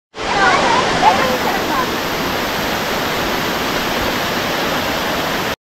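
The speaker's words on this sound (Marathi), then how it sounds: "इथे अजून एक मस्त सुंदर असा धबधबा आणि एकदम उंचावरून पडतोय, छान असं पडणारं पाणी." Water falls from a great height at Amboli Ghat in Maharashtra, a loud, steady roaring rush close by that goes on without a break.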